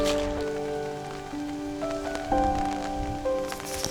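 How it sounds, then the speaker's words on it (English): Rain falls outdoors with a dense, steady patter on surfaces, mixed with scattered tonal sounds, no voices. "it's actually raining on this spot here"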